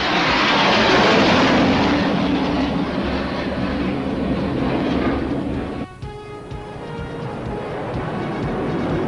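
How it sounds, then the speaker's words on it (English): Mirage fighter jets on a low-altitude bombing run over a simulated runway, with a loud, broad roar that sweeps past and then drops sharply into a fading rumble, no talking. "These Mirages will now attack a simulated runway as their ground target and drop Duranel bombs"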